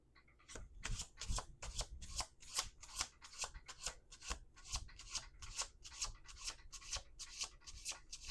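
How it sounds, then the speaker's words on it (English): A deck of tarot cards riffled over and over, brisk, evenly spaced papery flutters up close, continuing steadily without any voices. "One last shuffle."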